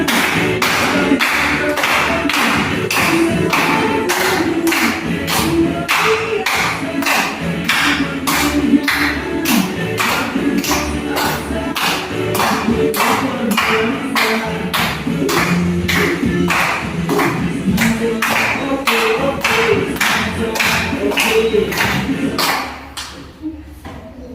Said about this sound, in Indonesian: Lanjut deh. Tepuk tangan.